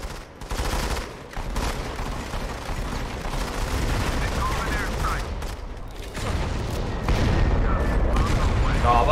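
Grenade explosions and rapid gunfire in the mobile shooter Modern Combat 5, dense overlapping bursts of shots and booming blasts filling the whole stretch, loud and continuous, with a voice talking over the action.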